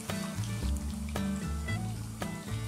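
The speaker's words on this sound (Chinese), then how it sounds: "锅里先倒油，油多点了，我们先要把鱼块炸一炸" Fish pieces deep-frying in plenty of oil in a wok, a soft continuous sizzle with faint bubbling and occasional light taps of a spatula, close and low in level.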